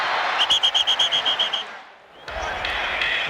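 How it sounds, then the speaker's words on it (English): A referee blowing a whistle at a 1993 NFL game between the Steelers and Browns, a rapid trill of about ten short shrill blasts over steady crowd noise, followed by a brief lull and returning stadium murmur. "I think they relaxed because they heard a whistle."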